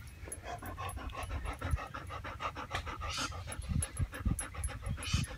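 A small dog pants rapidly and steadily close by, quick rhythmic breaths running throughout with faint snuffles, no talking.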